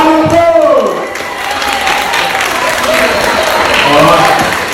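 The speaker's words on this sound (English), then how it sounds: "Round of applause!" An audience claps loudly in a talk setting, a sustained dense burst of applause, with a presenter's voice briefly over the start.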